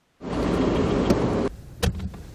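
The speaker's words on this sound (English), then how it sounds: "time for an incompetent car-stopping sound" A car engine runs roughly for over a second, then cuts out abruptly, followed by a brief clunk and rattle.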